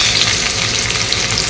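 Finely chopped onions fry in hot oil alongside browned cashews, giving a loud, steady, dense sizzle that crackles evenly from start to finish, with no voices.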